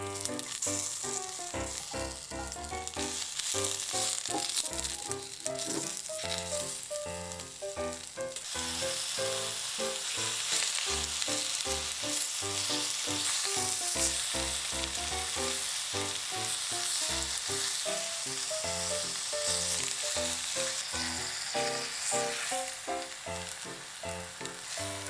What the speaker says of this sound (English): Heat a pot and melt the beef fat or oil. Quickly sear the long green onion and beef.